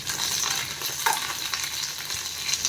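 A tempering of curry leaves, one dried red chilli and mustard seeds fries in a small amount of oil for coconut chutney, giving a continuous bright sizzle with scattered crackles and pops.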